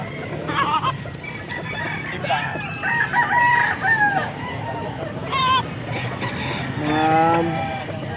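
Several young gamecocks (stags) crow repeatedly at a poultry auction in Angeles, Pampanga, the calls overlapping at close and middle distance over a busy background murmur of other fowl.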